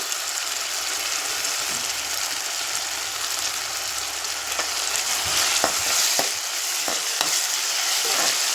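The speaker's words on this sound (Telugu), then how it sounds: "దీంట్లోకి కొంచెం కరివేపాకు యాడ్ చేస్తున్నాను" Curry leaves sizzle steadily in hot oil in a pan for a tamarind fish curry, a dense hiss with occasional sharper pops and crackles toward the end, close and with no talk.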